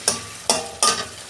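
Okra and onions fry in a pan, a steady sizzle punctuated by three sharp spatula scrapes in quick succession, close and fairly loud, without speech.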